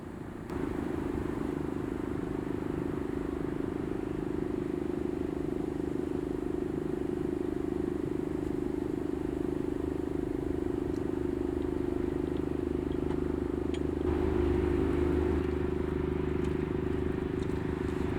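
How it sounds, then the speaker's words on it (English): A low, steady engine drone chugs on continuously, a boat motor idling and pulling away out of a canal lock at close range, with faint background clatter. "With the boat leaving the lock under its own power"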